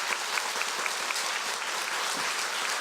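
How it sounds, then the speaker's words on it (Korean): Lecture audience at a public citizens' academy session applauds a guest professor, dense, even clapping from many hands sustained at moderate loudness from start to finish. "여러분 박수로 청해 보겠습니다"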